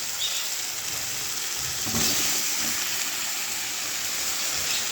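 Soybean chunks, pressure-cooked until soft, hit a hot pan and sizzle steadily, a dense close frying hiss that holds for the whole stretch with a brief stirring swell in the middle.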